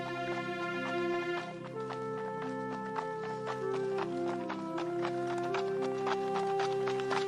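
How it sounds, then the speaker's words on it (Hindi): Horses carry three riders away in an animated Hindi story, their hooves clip-clopping in a steady quick rhythm under sustained background music. "फिर वह तीनों अपने अपने घोड़े पर सवार होकर निकल पड़ते हैं"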